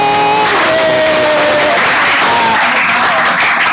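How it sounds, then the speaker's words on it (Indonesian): Classroom students clap their hands together in a loud, dense burst of applause lasting several seconds, with children's voices and shouts mixed in over the clapping. "Bagus, kasih tepuk tangan dong."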